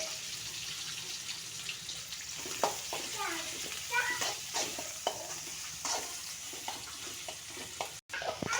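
Green chillies, onion and tomato fry in a pan for idli upma, giving a soft sizzle under repeated stirring and scraping clinks, with someone talking intermittently.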